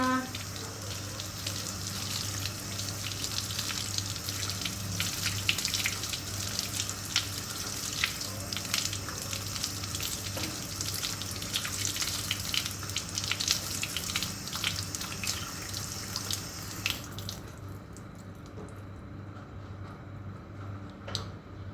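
Running water splashes steadily for a long stretch while rinsing a cat during a bath, then cuts off near the end, leaving quieter background.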